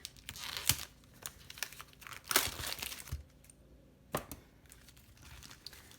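A Stampin' Up Paper Pumpkin card kit package is torn open by hand, with loud bursts of plastic crinkling and tearing separated by quieter rustles, close and without talk.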